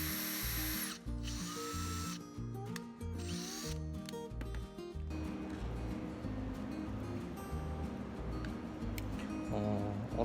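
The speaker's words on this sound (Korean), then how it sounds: "전동 드릴을 이용해서 구멍을 직접 뚫어줍니다" An electric drill bores holes for a four-legged walking robot build, with bursts of whirring motor alternating with short pauses, then a steadier mechanical grind and rattle.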